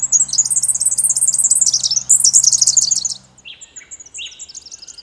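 A male fairy wren calls in the wild, a rapid high trilling song of repeated chirps close by for about three seconds, then a few softer, separated notes.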